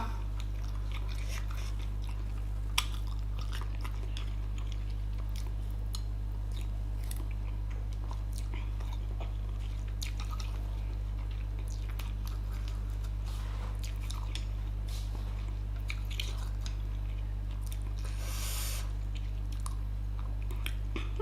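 Someone eating a spicy Thai salad of sausage, glass noodles, pork roll and salted egg yolk, with soft, intermittent bites and chewing sounds close to the mic over a steady low hum, faint voices now and then.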